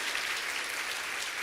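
A church congregation claps together in steady, even applause that fills the whole moment without pause.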